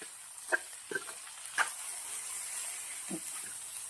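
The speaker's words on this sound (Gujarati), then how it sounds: "હવે આપણે આને મિક્સ કરવાનું છે।" Spiced sweet corn chaat stirred with a spoon, a handful of soft scrapes and taps against the bowl over a steady background hiss.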